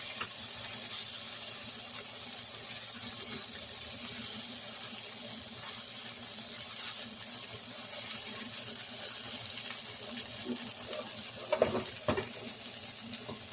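Swiss mini burger patties fry in a pan with a steady broadband sizzle throughout, and a few sharper clatters of a utensil near the end; no one speaks.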